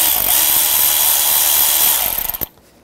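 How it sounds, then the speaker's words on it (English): A power tool ratchets a 7mm socket to loosen a worm-gear hose clamp on a 2011-2015 Chevy Cruze, a loud continuous whirring buzz for about two seconds that sputters to a stop. "7mm socket, loosen up the worm clamp"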